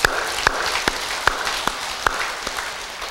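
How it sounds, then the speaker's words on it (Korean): An audience at a Buddhist sermon claps in a steady rhythm, with sharp evenly spaced claps about every 0.4 seconds standing out over a softer wash of scattered applause. "박수 한번 쳐줘"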